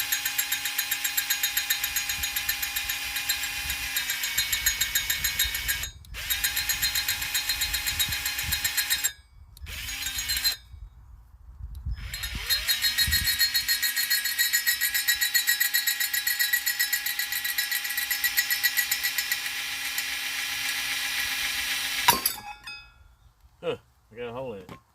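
A dull drill bit grinds through a hole in a steady, whining drone that runs in long stretches, broken by a few short pauses and ending in stuttering bursts as the drill stops and starts.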